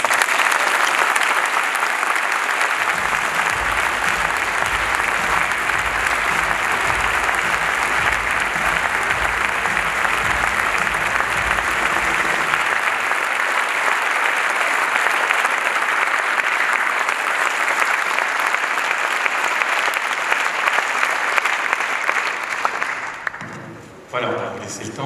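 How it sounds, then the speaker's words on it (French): Sustained applause from a political party congress audience, loud and dense for about twenty-three seconds before tapering off, with a low rhythmic thumping underneath for part of it. "je pense que vous pouvez l'applaudir."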